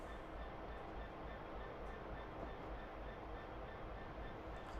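A Class 320 electric passenger train in a train simulator game runs along a suburban Glasgow line: a steady, quiet rolling rumble of wheels on rails with faint rail noise, continuous throughout and without talk.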